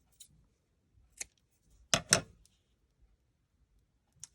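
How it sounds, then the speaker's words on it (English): Scissors trim paper ends while making an autumn greeting card: a few sharp, close snips at uneven intervals, with a quick double cut in the middle and near silence between them. "let's trim the ends"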